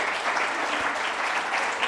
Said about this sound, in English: we'd just like to give you all a hand clap for being here